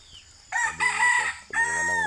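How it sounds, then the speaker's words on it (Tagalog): A rooster near a freshly cleaned chicken coop crows in the morning, one loud, close, drawn-out cock-a-doodle-doo in two strong phrases, heard on its own. "Kaok na yung manok."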